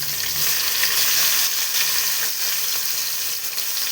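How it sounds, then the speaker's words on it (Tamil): Mustard seeds, urad dal, chana dal, a little cumin, onion, green chilli and curry leaves frying in hot oil for a carrot-bean poriyal, a dense, continuous close sizzle with faint crackles and stirring throughout. "வெங்காயம், பச்சை மிளகாய், கருவேப்பிலை நல்லா வதங்கட்டும்"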